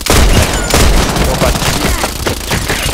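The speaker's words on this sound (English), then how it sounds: "hear this noise, that is the mortar strike" Mortar strike explosions in the Contract Wars shooter game boom in a rapid, loud cluster of heavy overlapping blasts close by, rumbling on for the whole three seconds.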